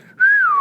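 A narrator whistles in imitation of a surprised character, a single short whistle that glides up and then slides down, clear and close.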